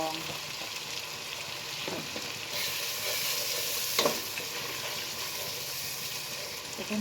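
Spices with ground cumin and a splash of water sautéing in a pan for duck curry, a continuous loud sizzle and bubbling with occasional stirring scrapes and a brief clatter near the middle.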